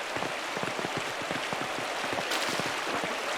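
A waterfall in the video game Pentiment rushes steadily, a continuous broadband hiss with patter like rain and no voices.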